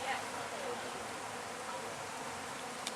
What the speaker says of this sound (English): Don't want to hurt any bees.